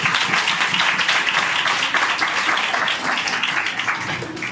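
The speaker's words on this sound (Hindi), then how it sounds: "खुदावंद के जलाल के लिए फिर से तालियां बजाएंगे।" Church congregation applauding to glorify God during a sermon, dense steady clapping that holds loud and continuous throughout, with no clear speech over it.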